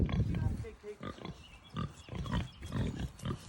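A large farm pig grunts and snorts repeatedly at close range in an outdoor pen, while a person talks over the animal noises.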